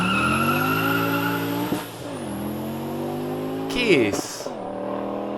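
An Audi 200 five-cylinder engine runs with loud, steady harmonic drone, dipping briefly and then revving back up; brief bursts like a turbo or wastegate hiss appear near the end, with a short spoken question over it.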